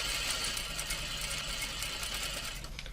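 A pedal-controlled sewing machine runs in a continuous, even hum at moderate volume, with a faint steady motor drone and no talking.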